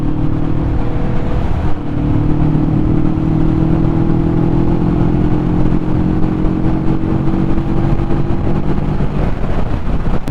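A Kawasaki Vulcan S cruiser motorcycle engine holding a steady drone at speed on a dual carriageway, loud and continuous, with wind roar and a slight pitch shift as the revs change.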